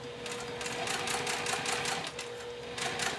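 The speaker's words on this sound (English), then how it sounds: "now I'm going to baste this into place." A sewing machine bastes an add-on piece into place about an eighth of an inch from the edge, running in a close, steady whirring rattle with only a brief easing before picking up again.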